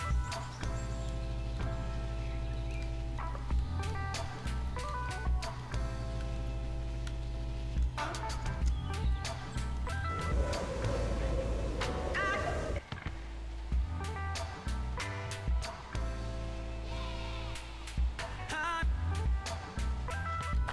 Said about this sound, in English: There's also some really nice sounds when you're walking through the forest here.